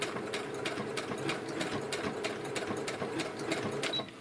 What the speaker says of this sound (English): this is because I'm sewing along the edge